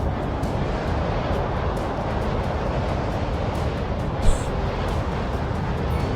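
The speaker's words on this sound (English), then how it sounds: "It's just a friendly neighborhood tornado." Roaring tornado winds in the city-building game Cities: Skylines II, a steady broadband rush like heavy surf or a passing jet that fills the whole clip, with one brief sharp blip near the end.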